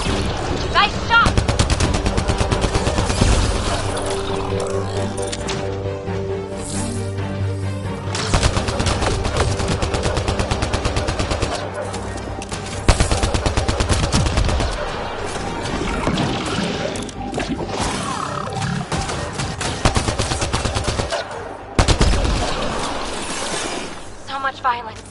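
Gunfire in Mass Effect: Andromeda, rapid bursts of automatic shots and sharp impacts firing almost nonstop over layered game music and effects, loud and close, with brief pauses between volleys.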